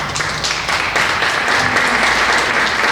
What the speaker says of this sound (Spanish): el doctor Álvaro Vizcaíno Zamora, que recibimos con un fuerte aplauso.